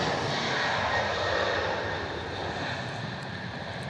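Engines of a 19-year-old Qantas Airbus A330-300 roar steadily at takeoff power outside Melbourne Airport, a loud, broad, continuous jet rumble that eases slightly over the final seconds, with no voices.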